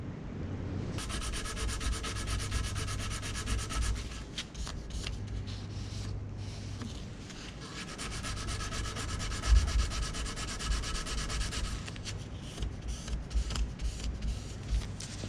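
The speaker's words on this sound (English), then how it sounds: "I'm going to take some sandpaper now, like some really low 80 grit, and I'm going to just finalize everything up and make it a little bit more clean." Coarse 80-grit sandpaper rubbed by hand over a homemade knife, a steady loud scratchy rasping in long back-and-forth strokes that runs almost continuously with brief pauses.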